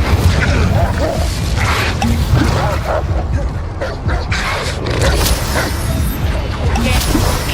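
Incendio fire spell going off in Hogwarts Legacy amid dense, loud combat, with sustained roaring bursts and crashing blasts that run without a break.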